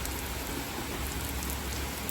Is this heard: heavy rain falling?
yes